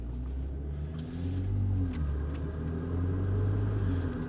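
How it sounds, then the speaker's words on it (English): A Mercedes GLE with an M276 turbo V6 idles with exhaust valves closed, a steady, deep rumble and a low droning hum, holding at a constant level throughout with no voices. "Now I'm starting the vehicle with the valves closed"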